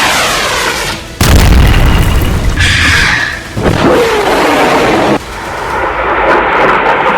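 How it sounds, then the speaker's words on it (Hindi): A Houthi ballistic missile is intercepted by an Israeli long-range defense system, giving a loud, deep blast that rumbles on, with further heavy booms and a rushing roar echoing over a few seconds. "इजराइल का ये डिफेंस सिस्टम फौरन एक्टिव हुआ और उसने हुथी की बैलिस्टिक मिसाइल को मार"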